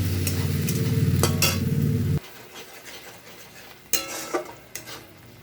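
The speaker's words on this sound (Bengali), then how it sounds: "পেঁয়াজটা ব্রাউন হয়ে গেছে, এবার পেস্ট করে রাখা সব মশলাগুলো দিয়ে" Spice paste hits browned onions in a hot pan for a sajna (drumstick) curry, giving a loud steady sizzle for two seconds. Quieter stirring scrapes and a few sharp utensil clinks follow.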